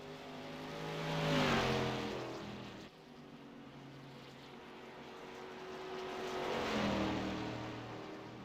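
Race car engines in a sim racing video game, two passes rising and falling in pitch as cars sweep by, a steady engine drone between them, with no talking.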